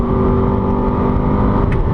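Ferrari F430 engine at Eastern Creek race track, loud and steady under throttle, a dense continuous roar close up with no talking.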